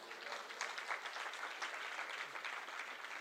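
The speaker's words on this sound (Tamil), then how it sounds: "கைதட்டுங்க" A church congregation claps during a Tamil Lent meeting after praise for a senior pastor; even, continuous hand clapping from a large gathering, fairly distant and steady, with no talk over it.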